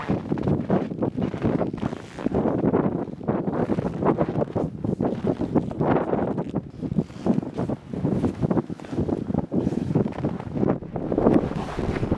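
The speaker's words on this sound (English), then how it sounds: "Because the wind was especially brutal today" Strong, brutal Antarctic wind buffets the microphone in a continuous loud roar with gusty surges throughout, harsh and close with no pauses.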